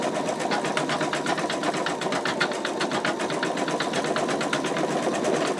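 An embroidery machine stitches out an in-the-hoop wallet, its needle hammering in a fast, steady, even rhythm that runs continuously and fairly loud throughout, with no talking.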